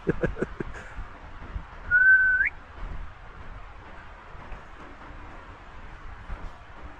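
A single short whistled tone, held briefly with a slight rise at the end, sounds in a quiet forest with faint rustling.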